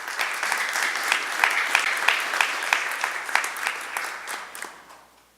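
Sustained clapping from an audience at a council session, honouring members of Sociedade Varsóvia, fills the room with dense, steady applause before tapering off at the end.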